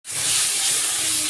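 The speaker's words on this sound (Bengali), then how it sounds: "মশলাটা খুব ভালোভাবে ভেজে নেব" A loud, sudden hiss of spice paste hitting hot oil with water and chopped tomato for tel koi fish curry, bursting in at once and holding as a steady close sizzle.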